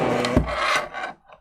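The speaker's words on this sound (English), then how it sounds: "Sorry for the scraping noise in front of the microphone." Close scraping and rubbing of hard material, likely wood, right in front of a microphone during a tech hardware sorting session, a loud continuous rasp lasting about a second before trailing off into faint scuffs.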